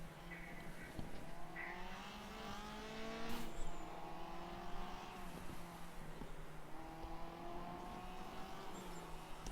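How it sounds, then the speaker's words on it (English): A race car in a racing game on the Nürburgring GP circuit brakes hard into a corner, the engine note dropping and rising through downshifts, with steady engine drone and brief tire noise throughout. "Hard braking into turn 1."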